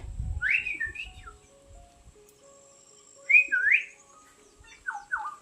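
A bird calls outdoors beside overgrown farmland, sending three clear whistled phrases spaced a couple of seconds apart over a quiet background, with a low rustle or rumble at the start.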